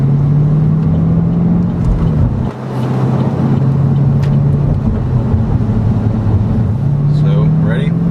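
A Chevrolet Camaro track car's engine pulls hard in a low gear on a service road, a loud steady drone that climbs in pitch, dips briefly mid-pull, then rises again, with voices talking over it near the end.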